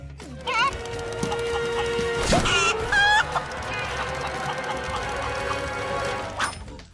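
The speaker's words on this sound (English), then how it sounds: "there are chickens fluttering around all over the place" Several video game chickens cluck and squawk close by, with a rooster-like call among them, over a steady background hum.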